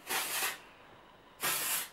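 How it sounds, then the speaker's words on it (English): Two short bursts of volumising hair spray hiss from an aerosol can into the hair roots, each about half a second long, close and crisp with a quiet pause between. "you just spray it into your hair where you want some volume, so into the roots"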